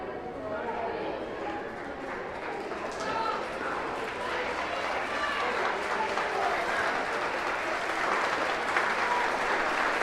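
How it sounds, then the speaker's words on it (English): Crowd applauding steadily at a women's rugby match between Ennis and Carrick-on-Suir as a player leaves the field, a dense, continuous clatter of clapping throughout, with a commentator's voice running over it. "a rapturous round of applause here"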